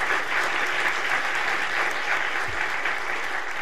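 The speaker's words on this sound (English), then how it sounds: "So first applause on that." An audience applauds steadily for a few seconds, the many hands clapping together in an even, moderately loud patter with no talking over it.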